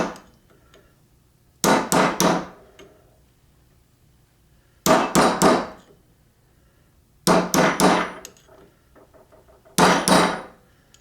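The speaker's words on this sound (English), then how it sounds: "we're just going to take the chisel now and just bend the rest of that washer over" A hammer strikes a chisel to bend over a locking washer on an MGA/MGB three-synchro gearbox, four sharp metallic bursts of three or four quick taps each, spaced apart with quiet in between.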